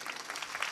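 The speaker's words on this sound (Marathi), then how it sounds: "टाळ्या वाजवा ना जोरदार." Brief burst of audience applause at a devotional kirtan gathering, a soft wash of clapping hands with no break.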